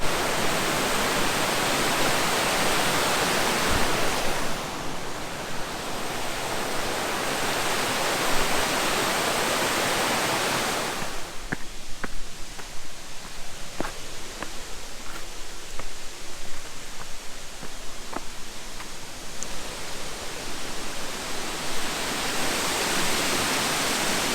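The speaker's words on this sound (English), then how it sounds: "I forget what waterfall this is, but it's a pretty big waterfall." A big mountain waterfall in New Hampshire roars as a dense, steady wash of falling water, loud and close, dipping briefly and then returning full with no voices over it.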